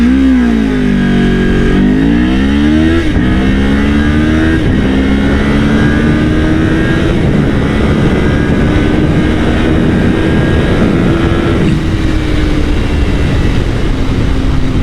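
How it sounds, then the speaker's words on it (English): A Kawasaki Ninja 500 SE motorcycle in a 0 to 60 run, the engine loud and close, climbing in pitch through the gears with short dips at each shift and then a long sustained pull near the end. "we're gonna do a little 0 to 60 test, and we'll compare and contrast between the RS457 and this motorcycle to see which one is a little quicker"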